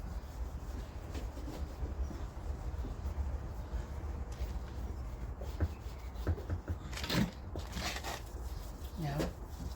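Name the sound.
wiping van surface clean before window adhesive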